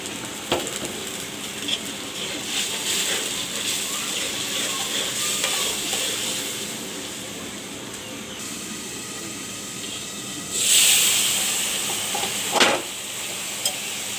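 Ground spices of chili, cumin, turmeric and salt frying in a pan for hilsa with pointed gourd, giving a steady close sizzle with stirring scrapes and a short louder hiss near the end.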